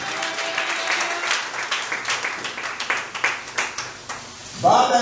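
A church congregation clapping for Jesus, a dense patter of many hands with uneven rhythm over about five seconds, a voice rising briefly at the end.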